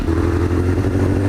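Suzuki GSX-R motorcycle engine running while riding, a loud, close, steady pulsing drone with a slight rattle through the brief stretch.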